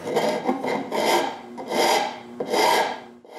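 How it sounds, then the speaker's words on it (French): A wood rasp files inside a glued-up wooden bowl blank in four rough, rhythmic strokes. Each pass gives a close, gritty scraping sound, with short pauses between strokes and nothing else heard. "je fais la job avec une râpe"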